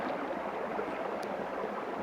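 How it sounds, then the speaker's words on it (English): Creek water of the Jemez River in New Mexico runs over rocks, a steady close broadband rush with no break and no voices. "right now I'm just sitting down the creek,"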